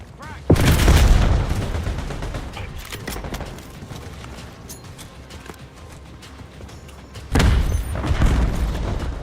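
A frag grenade blast erupts with a sharp boom, followed by rattling gunfire, and a second loud explosion lands near the end during a Hardpoint match in a first-person shooter game.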